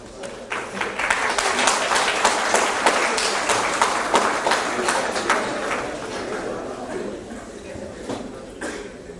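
Students applauding in a lecture hall, a dense mid-level patter of many hands that swells early and then slowly thins out, with some murmuring underneath.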